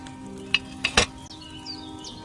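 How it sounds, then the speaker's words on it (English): Potion cauldron set over a flame in a fantasy video game, giving a soft, steady bubbling simmer with a few brief clinks and pops rising above the low boil. "Hear that bubbling? It's boiling."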